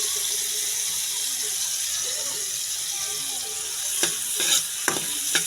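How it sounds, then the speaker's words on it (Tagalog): Garlic and onion sizzle in a hot pan with a steady frying hiss, joined near the end by a few sharp scraping stirs of a utensil against the pan. "Pagsabay-sabay na natin ang bawang at sibuyas."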